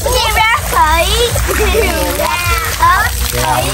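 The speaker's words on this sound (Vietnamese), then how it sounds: "ông nội đang bơm nước vô con chơi kìa." Water splashes as a grandfather pumps it onto a playing child at home, bursts of sloshing and spatter mixed with excited children's voices chattering close by.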